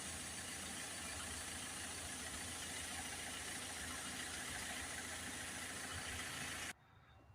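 A Ford Transit Custom van's diesel engine idles with a blocked DPF, giving a steady, even rumble that runs unchanged for nearly seven seconds before cutting off abruptly.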